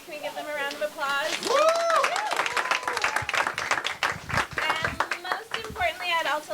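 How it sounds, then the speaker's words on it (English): An audience at an evening event applauds its team of volunteers, steady clapping loud and close, mixed with cheers and shouting voices throughout. "Can we give them a round of applause?"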